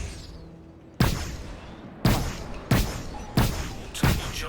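A ship's forward cannon in the space game Star Citizen fires five heavy, booming shots at a slow, steady pace, each blast loud and close with a short rumbling tail.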